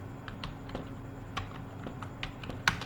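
Soft, irregular clicks of a computer keyboard as someone types an example sentence, sparse keystrokes with small pauses, close but quiet against a faint steady hum.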